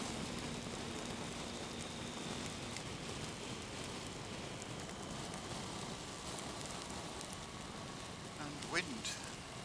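Rain falls outdoors during a road trip on the North Coast 500 in Scotland, a steady, faint hiss of drops with a brief louder patter near the end.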